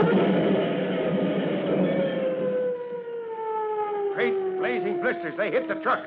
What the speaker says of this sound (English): Something's coming up behind us. Hey, that's a siren.